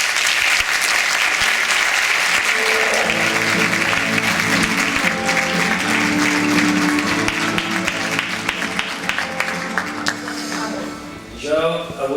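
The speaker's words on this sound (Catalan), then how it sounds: "un aplaudiment" An audience applauds a speaker's introduction at a Catalan talk with strong, continuous clapping that holds steady for most of the time, while a voice begins speaking over it near the end.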